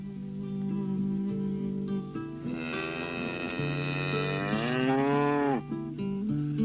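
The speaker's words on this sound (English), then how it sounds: "friendly animal, the cow." A cow moos in one long, loud, drawn-out call that rises and then falls. A sustained musical tone plays underneath, and the call ends with a slight break.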